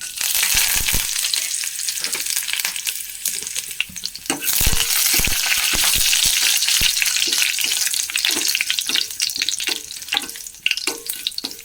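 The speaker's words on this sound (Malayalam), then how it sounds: "വറ്റൽമുളക് ഇട്ട് കൊടുക്കാം" Curry leaves and dried red chillies fry with mustard and fenugreek seeds in hot oil for a mango curry, giving a loud, continuous sizzle with crackling spits and occasional stirring scrapes, close by and without voices.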